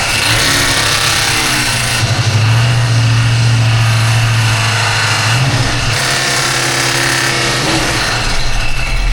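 An old car's engine cranks and catches, then revs roughly in a loud, uneven surge before settling into a rough idle, close by with no talk over it.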